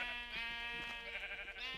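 Sheep bleating from a video game, a single sustained, nasal bleat with wavering pitch and a few clicky game sounds behind it, steady and fairly close.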